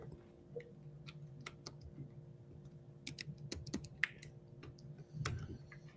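Rapid, irregular keyboard typing, its faint clicks and taps scattered unevenly over a low room hum with no voices.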